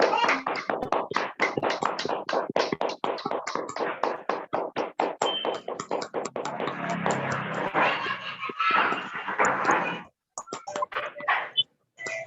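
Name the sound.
audience applauding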